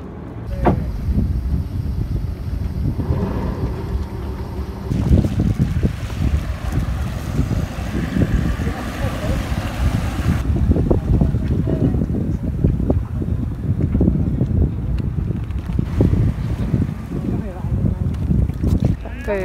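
Sailboat motoring from a marina out to a mooring ball, a steady low engine drone with water wash and gusts of wind noise across the microphone, continuous and fairly close throughout.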